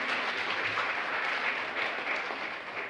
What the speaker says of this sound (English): So let's have one last round of applause to all of the candidates.